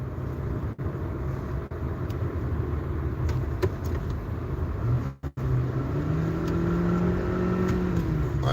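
A car accelerates hard on the road to let a truck merge, its engine note swelling and rising in pitch over a steady road rumble, loud and close with no talk.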